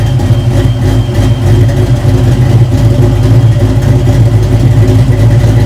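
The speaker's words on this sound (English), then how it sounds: "If you have a B303 or any letter cam, that will give you the soundtrack required to make this old school ride sound right." A Foxbody Mustang 5.0 V8 with a B303 cam idles loudly and close, a deep, steady rumble with a slightly lopey pulse throughout.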